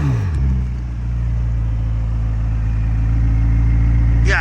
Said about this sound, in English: Yeah, you can hear those turbos.